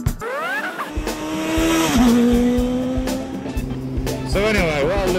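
A Triumph Daytona 600 motorcycle with a stiff clutch revs hard as the throttle opens, its engine note climbing in repeated rising sweeps and holding a strained drone, loud and close, with a rider's voice over it.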